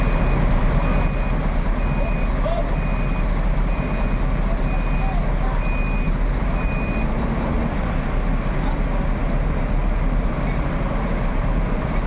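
A bus backs up at a terminal, its reversing alarm beeping in an even, regular series over a loud, steady engine rumble, nearby and continuous, with no talk heard.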